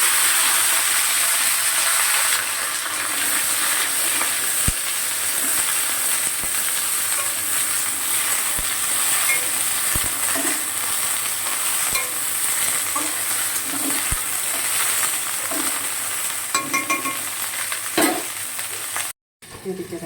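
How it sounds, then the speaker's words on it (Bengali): Chopped onion fries in hot oil for an okra and mustard dish, with a steady close sizzling hiss running throughout, sharp utensil taps now and then, and a brief dropout near the end. "তো দেখো আমি একসাথেই তেলে দিয়ে দিচ্ছি"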